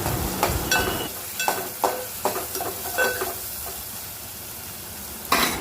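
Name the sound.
frying spices and stirring in turmeric in a pan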